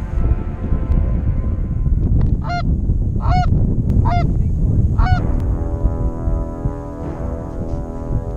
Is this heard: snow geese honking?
yes